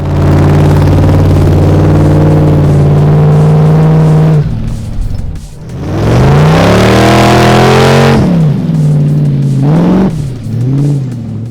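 An off-road Jeep on 80 series running gear, supercharged, roars close by in sandy clay at Woodhill, New Zealand, holding a loud steady rev before dropping off and surging again in rising and falling bursts.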